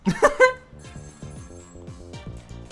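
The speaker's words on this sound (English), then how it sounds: "let's get to that phone before it stops ringing" A telephone rings in the video game Ghost Trick: Phantom Detective, a repeating electronic trill pulsing in quick regular bursts after a brief louder opening note, clear and close with no talk over it.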